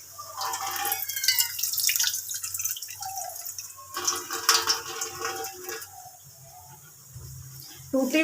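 A broken kitchen tap in a village home drips water drop by drop, small irregular plinks close by, with faint background ambience and a brief louder bump near the end.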